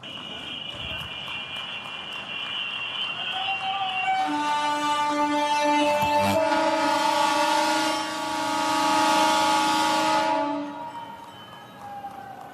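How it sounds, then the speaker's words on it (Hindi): Ujjain–Indore MEMU train at a station during a flag-off ceremony, with a loud sustained electric horn blaring for several seconds over crowd noise, then fading. "उज्जैन इंदौर व इंदौर उज्जैन मेमू ट्रेन को हरी झंडी दिखाकर उनका शुभारंभ करने की कृपा करें"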